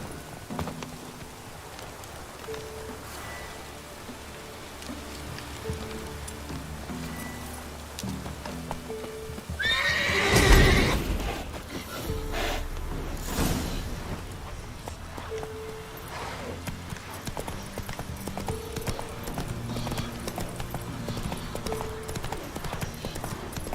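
A horse galloping in The Witcher 3 during a rainstorm: a steady, rhythmic clip-clop of hooves over continuous rain. One loud, brief burst stands out about halfway through.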